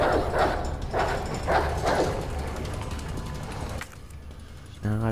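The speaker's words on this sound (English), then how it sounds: "Now I gotta deal with all these fucking dogs." Dogs barking in the video game Resident Evil 2, a rapid series of loud rhythmic barks over game noise, followed by a mechanical clatter.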